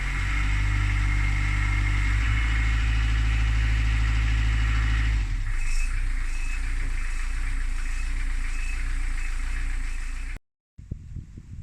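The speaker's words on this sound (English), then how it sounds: "the engine has started and sounds good at the moment" A repaired engine on a vehicle heading south idles steadily and loudly up close, its low drone shifting in tone partway through, then cutting off abruptly near the end.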